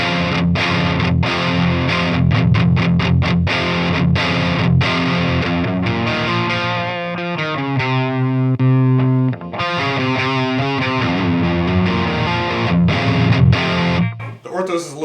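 Distorted electric guitar through a KSR Orthos metal amp plays a crunchy, driven tone: a run of quick chopped chords, then sustained ringing notes, ending in a brief pause.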